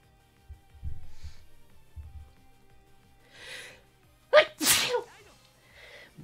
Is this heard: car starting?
no